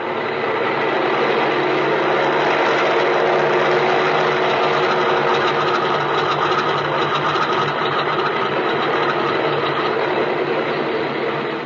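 An airplane engine running up for takeoff in a radio drama, a loud, dense, steady drone that holds without break.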